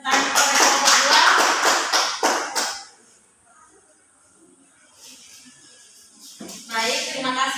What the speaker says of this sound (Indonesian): mari kita berikan tepuk tangan kepada kelompok 2